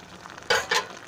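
Jaggery pieces being stirred into a mango murabba mixture, giving two short, close scraping stirs with a brief pause between them.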